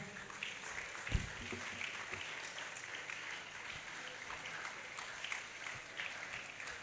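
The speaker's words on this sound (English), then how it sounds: "If you are clapping, you can actually do better." Convention audience applause fills the space as a steady, dense wash of clapping, heard from a distance and fairly faint, with a few louder thumps near the start.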